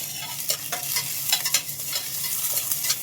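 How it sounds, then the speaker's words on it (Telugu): Cashews, almonds, ginger, green chilies and curry leaves fry in a pan with a light sizzle, broken by a series of scraping stirs and clinks of a spatula against the metal, close and clear with no voices. "జీడిపప్పులు బాదం పప్పులు అల్లము పచ్చిమిర్చి ఈ కరివేపాకు ఇవన్నీ కూడా వేసేసి ఒకసారి వేయించుకుందాం"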